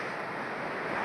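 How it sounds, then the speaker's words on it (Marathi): A waterfall hidden in forest near Ratnagiri gives a steady, broad roar of rushing water, continuous and fairly loud. No voices are heard over it. "हा धबधब्याचा आवाज येतोय"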